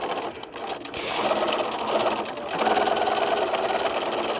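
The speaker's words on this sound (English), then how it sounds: "So at the sewing machine, we're going to go ahead and just stitch about the same seam allowance." A sewing machine stitches a seam on a fabric bag with a close, steady mechanical whirr that pauses briefly and then resumes at a slightly faster pace.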